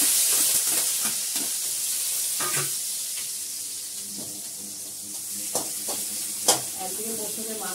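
Onion frying lightly in a pan for chowmein, a soft steady sizzle under repeated scrapes and clacks of a stirring spatula.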